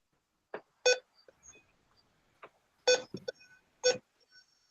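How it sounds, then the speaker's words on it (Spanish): A laptop charger gives short electronic beeps in irregular bursts, about five sharp tones separated by quiet gaps, with faint clicks between them and no talk. "¿Suena por ahí un pitido o algo raro? Es mi cargador."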